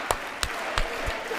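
A few separate hand claps at a State of the Union speech, four or five irregular sharp claps over a steady murmur of background room noise.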